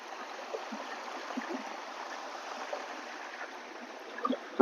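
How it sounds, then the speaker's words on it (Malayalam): Water from a forest stream near Oliyarik waterfalls flows as a soft, steady rushing wash, quiet and continuous with a few faint splashes. "അങ്ങനെ ലാസ്റ്റ് നമ്മൾ വെള്ളച്ചാട്ടം കണ്ടുപിടിച്ച് ആശ്വാസം"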